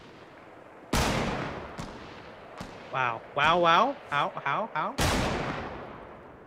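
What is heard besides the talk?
gunfire in Fortnite video game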